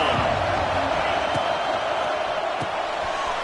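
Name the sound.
stadium crowd cheering in NCAA 26 football video game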